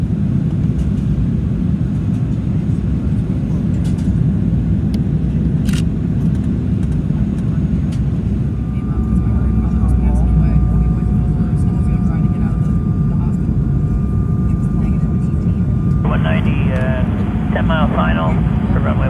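A jetBlue Embraer 190 airliner on approach to Presque Isle airport makes a constant, heavy engine roar and airflow rumble, with a radio voice speaking over it toward the end.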